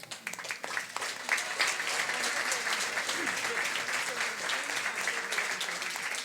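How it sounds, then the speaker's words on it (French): Audience at a community organizations' gala in Bécancour applauds the evening's winners, a steady dense clapping that fills the room from start to finish at a loud, even level. "J'aimerais qu'on puisse applaudir encore une fois tous les gagnants de ce soir."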